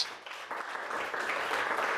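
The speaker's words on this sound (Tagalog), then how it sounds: "Pumalakpak yung naniniwala doon." A church congregation applauds together, a dense, steady burst of clapping that swells slightly and holds for a couple of seconds.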